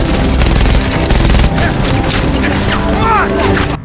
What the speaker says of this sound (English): Gunfire erupts from all sides.